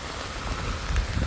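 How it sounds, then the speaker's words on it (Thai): Rain falls steadily at a farm field hut in a brief burst, with a dense, close patter and soft thuds of drops striking surfaces. "ฝนกับมาแล้ววันนี้"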